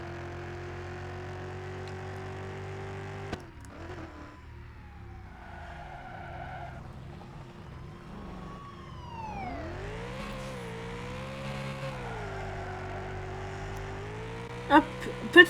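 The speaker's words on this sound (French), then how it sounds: "petit dérapage du coup, hein, que je viens de faire là" A car drifts in a video game during a police chase, its engine tone bending and sliding in pitch against a steady synthetic drone, with a few sharp clicks and thumps near the end, all fairly quiet.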